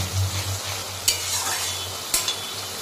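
Mustard spice paste fries in a pan with a soft, steady sizzle, and two sharp scrapes or taps of the spatula cut through it.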